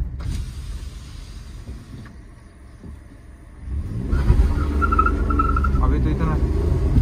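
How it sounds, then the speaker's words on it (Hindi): A Maruti WagonR spins its wheels in second gear on a village lane, a low engine roar and rumble swelling after a quieter stretch and holding loud and close to the end. "आप सेकंड गियर का व्हील स्पिन सुनना।"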